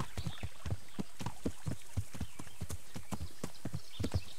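A horse's hooves clip-clop at a steady walking rhythm in Kingdom Come: Deliverance, close and distinct, evenly spaced beats over a soft background hiss.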